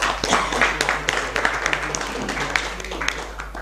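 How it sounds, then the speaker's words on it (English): Applause for presenting teams at a Rotaract East Zone final competition, scattered mid-level clapping from an audience with a steady low hum underneath, some voices mixed in. "Can we give a warm applause to each of them?"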